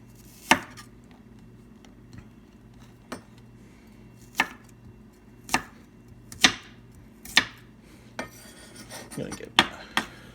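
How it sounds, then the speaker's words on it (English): Knife slicing through food on a cutting board while cooking mochiko chicken, with sharp, separate chops spaced a second or so apart and a low steady hum in the background. "we'll just cut off that end, and then we're just gonna slice these guys up"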